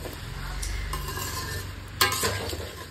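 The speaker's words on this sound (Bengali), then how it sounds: "একটু নাড়িয়ে চাড়িয়ে নিলাম।" Vegetable curry sizzles in a pan after salt goes in, with a continuous frying hiss and spatula scrapes stirring through it, one louder scrape near the end.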